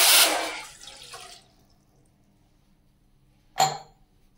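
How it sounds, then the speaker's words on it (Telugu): Water poured from a measuring glass, three-quarters of a glass for rava laddu syrup, a short loud close splash at the start that quickly fades to quiet, then one brief sharp splash near the end. "ముప్పావు గ్లాసు నీళ్ళు తీసుకుంటాను"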